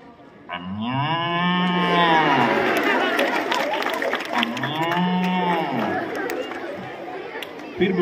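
A group of people imitates a cow with two long, drawn-out moos a few seconds apart, loud and close, surrounded by crowd chatter.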